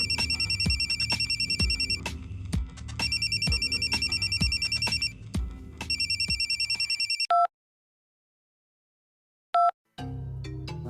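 A telephone ringtone rings in repeated bursts with a steady beat, loud and close, then stops; after a pause, short electronic tones sound.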